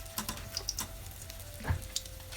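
Heart-shaped churros dough fry in hot oil in a pan, giving a soft, continuous sizzle with light crackles and occasional utensil taps, close and alone without talk.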